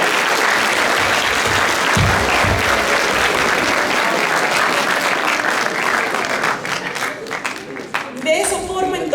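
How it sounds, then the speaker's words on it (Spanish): Loud, sustained applause from an audience at a company event, dense clapping filling the whole stretch and thinning slightly near the end. "Un fuerte aplauso para la empresa Tecnopreco"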